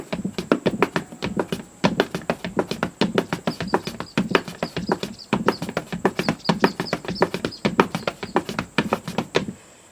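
Rapid wooden tapping of clogging dance steps, heel and toe strikes falling in quick rhythmic bursts with short pauses, close and crisp with no talking.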